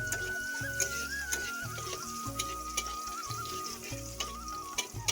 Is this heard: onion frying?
yes